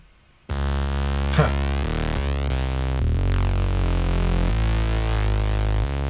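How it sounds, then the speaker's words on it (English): A Moog synthesizer plays alone after a brief quiet start: loud, sustained, buzzy tones move through stepped notes, with a sweeping filter chirp early on. "So this is the Moog."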